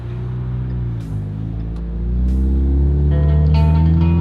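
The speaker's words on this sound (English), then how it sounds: "I forgot how good my fucking car sounds." A Ford Mustang engine rumbles at idle and then revs up into a louder, deeper sustained roar, heard close and alone with a few faint clicks over the engine tone.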